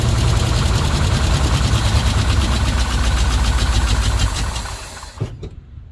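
A 1970 Chevrolet C50 truck engine, started for the first time in over a decade, runs loud and close with a rough, knocking chug, then sputters and dies near the end.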